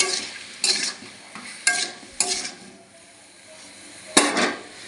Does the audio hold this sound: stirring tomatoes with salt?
yes